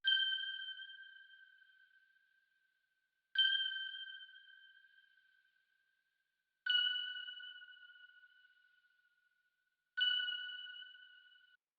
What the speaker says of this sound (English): another effect one shot that just plays a super simple melody